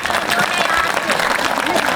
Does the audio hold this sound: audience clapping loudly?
yes